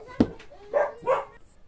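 Dogs in a home let out three barks: one sharp yap followed by two fuller barks, close and fairly loud against a quiet background.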